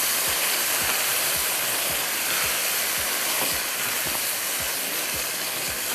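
Prawns sizzle and roast in a pan over a high flame, a loud continuous hiss with a regular soft thumping pulse running underneath.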